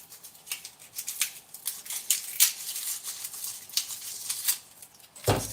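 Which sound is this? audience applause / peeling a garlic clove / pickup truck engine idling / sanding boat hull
peeling a garlic clove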